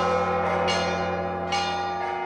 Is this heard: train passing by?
no